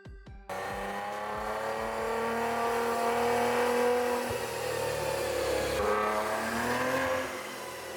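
A Maserati Ghibli S Q4 revs hard on a wheel-drive dynamometer: a loud, sustained engine roar with a steady harmonic drone, briefly easing near the end before holding again.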